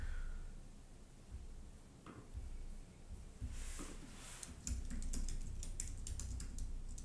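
Typing on a computer keyboard, heard as irregular bursts of clicky keystrokes that grow denser in the second half, standing alone over a low room hum.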